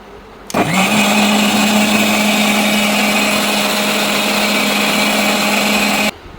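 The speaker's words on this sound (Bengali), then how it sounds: "এখন বাকি রয়েছে রসুন ব্লেন্ডার করা" A blender grinding garlic switches on and runs loudly and steadily for about six seconds, a continuous whirring grind, then cuts off abruptly.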